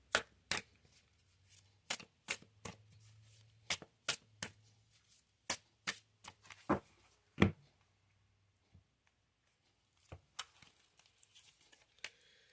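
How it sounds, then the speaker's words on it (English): Oracle cards are shuffled by hand in a quiet room, giving irregular sharp riffles and slaps spread across the whole stretch, some close together and others isolated, with a faint low hum underneath. "Let's go ahead and pick some oracle cards"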